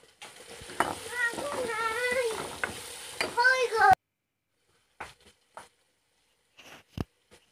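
Prawns fry in a pan while being stirred, a steady sizzle with scraping strokes under background voices for about four seconds, then near silence broken by a few faint clinks and taps.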